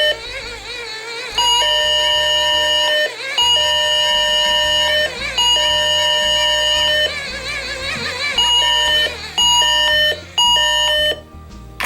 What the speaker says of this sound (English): that's the S.O.S Alarm